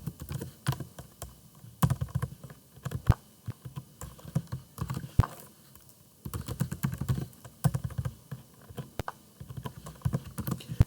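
Rapid computer keyboard typing while entering employee payroll records in Tally accounting software: dense, close clicking key presses in uneven bursts with brief pauses, no voices.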